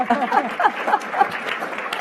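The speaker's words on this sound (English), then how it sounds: "nice round of applause" Audience applause at a Canada 150 sustainability panel, a steady patter of clapping from a room full of people lasting the full two seconds, with voices mixed in underneath.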